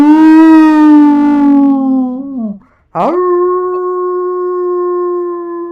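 A dog lets out two long, loud, sustained howls close up, the first sliding down at its end, then a short break before a second steady howl rises and holds.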